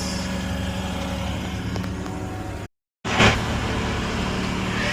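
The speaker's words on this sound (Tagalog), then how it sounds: "So andar na yung ating pinalitan na yung fuel pump" Suzuki K6A engine in a DA64 drop-side pickup running steadily after a fuel pump replacement, a continuous close idle hum with a brief cut in the middle.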